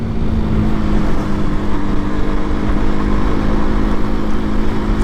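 A motorcycle ridden through monsoon weather in Bandra, with a steady engine drone and rushing wind and road noise that stay loud and unbroken throughout.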